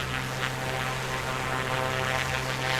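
A Comanche 250 propeller plane in MSFS 2024 climbs just after lifting off with its gear retracting, its engine drone steady and fairly loud throughout with no talk.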